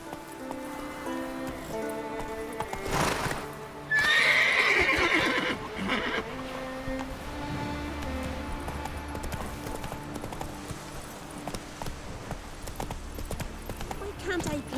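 Horse galloping and neighing in The Witcher 3, with a loud whinny partway through, hoofbeats running throughout under a busy bed of game music and ambience.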